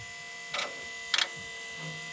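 After a key cycle, the fuel system on a Cummins ISX15 charges itself following a fuel injection pump update. Two brief electric whirs, the second one louder, rise over a quiet, humming garage background.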